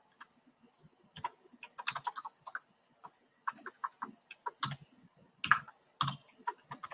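Sparse, crisp computer mouse clicks come singly and in short clusters against a quiet background while a form is filled in in Microsoft Access.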